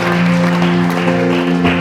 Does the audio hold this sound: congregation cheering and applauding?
yes